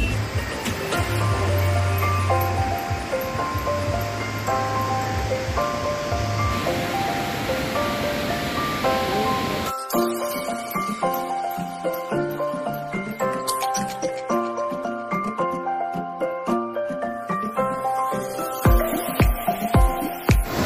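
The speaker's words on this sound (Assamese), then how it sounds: "কিলোমিটাৰ মান ওপৰৰ পৰা পানী পৰি আছে" A Cherrapunji waterfall, seemingly the Seven Sisters falls, drops from a great height with a steady, loud, broadband roar. The roar fills the first half and then continues more faintly beneath tonal music.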